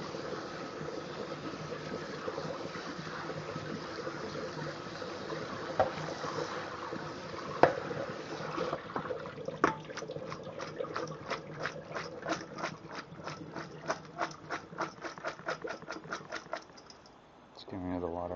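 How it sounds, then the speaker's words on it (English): Water running and splashing over soybeans being rinsed for Korean beef brisket soup, a steady broadband wash with sharper rhythmic sloshing pulses in the second half, close and moderately loud. "Alright, so rinse the soybeans out."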